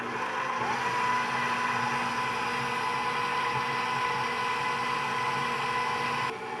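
An electric mixer whirs steadily as it beats frosting made with powdered sugar and vanilla, a constant, moderately quiet motor hum that stops abruptly at the end.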